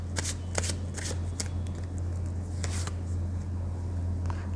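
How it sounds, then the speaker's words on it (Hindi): A deck of tarot cards is shuffled close by in quick riffling bursts, loudest at the start and then trailing off over a constant low hum, with no talking. "जब तक मैं कार्ड शफल कर रही हूँ आप लोग भी मेडिटेट कीजिए।"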